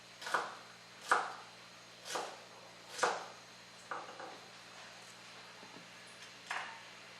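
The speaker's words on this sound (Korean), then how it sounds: "고추도 어슷어슷하게 썰어주시면 되고요" A knife chops Cheongyang chili peppers diagonally on a cutting board in a slow, irregular rhythm, with about eight distinct thuds spaced out and faint kitchen background.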